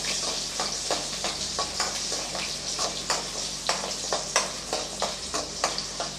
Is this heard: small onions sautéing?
yes